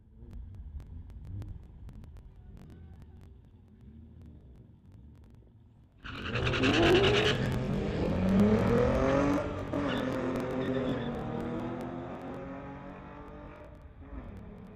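Cars launch at a drag strip street legal event that includes a 2014 VW Beetle, with a low engine rumble that turns into a sudden, loud, sustained roar of hard acceleration, heard from nearby through wind noise.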